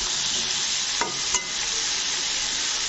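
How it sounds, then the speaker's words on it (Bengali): Brinjal stir-fried in a pan for a South Indian fry, with a loud, steady sizzle throughout, broken by two brief scrapes of the spatula near the middle and no voices. "বেগুনটাকে দেখো ভালো করে নাড়াচাড়া করে নিতে হবে।"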